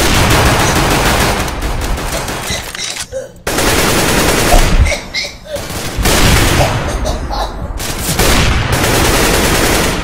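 Rapid, loud bursts of Negev light machine gun fire in Counter-Strike: Global Offensive, nearly continuous with brief pauses, while voices gasp and react over it.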